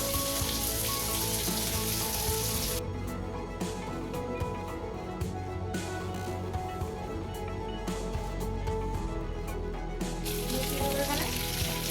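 Chicken tandoori frying in a pan on a gas stove, a loud continuous sizzle with crackling spatter that holds steady throughout, close up and without speech.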